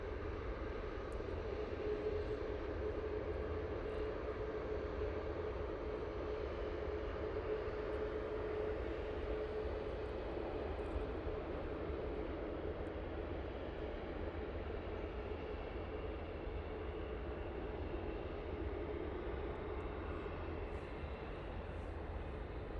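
A Ryanair jet taxis at Manchester Airport, heard as a steady, distant engine rumble and whine that holds level throughout.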